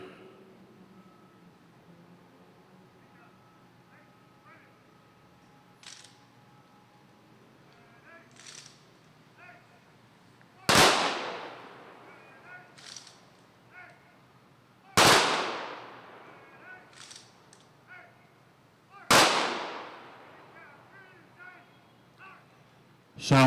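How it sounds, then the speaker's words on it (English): A police honor guard fires a rifle salute at a Memorial Day commemoration: three sharp, loud volleys spaced a few seconds apart, each with a short echoing tail, between quiet stretches of faint outdoor background sound. "sound the rifle salute."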